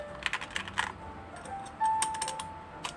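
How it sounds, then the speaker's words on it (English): Typing on a custom mechanical keyboard, bursts of quick, light, close clicks and clacks with brief pauses between them. "This is actually a very gentle typing experience."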